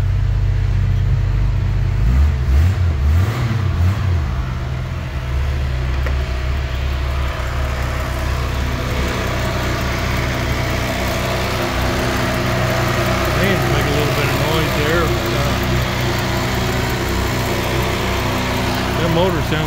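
A 1985 Jeep CJ7 engine runs steadily, giving a continuous low, even rumble at idle for the whole stretch, close and loud.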